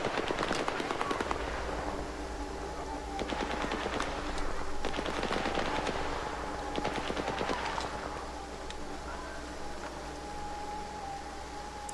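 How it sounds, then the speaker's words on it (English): Random gunfire in the STALKER 2: Heart of Chornobyl video game, with bursts of automatic fire and scattered shots crackling at moderate distance over a steady ambient hiss, thinning out toward the end. "I love random gunfire that I'm not technically involved in but could become so at any moment"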